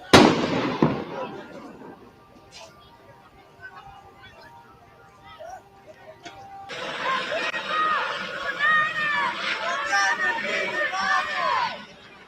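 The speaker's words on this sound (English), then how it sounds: "that big loud sound that you're hearing, those are the tires exploding" Loud blasts from car tires exploding in a street fire during a Los Angeles protest, one heavy burst at the start, then a dense crowd clamor with overlapping shouts and pops rising from mid-clip to the end.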